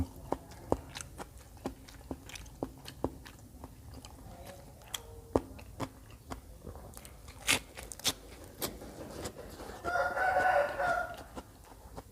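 Someone bites and chews crunchy cooked chicken wings up close, producing a string of sharp crisp crunches and wet chewing sounds. A rooster crows faintly in the background near the end.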